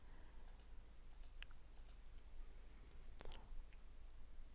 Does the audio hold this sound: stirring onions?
no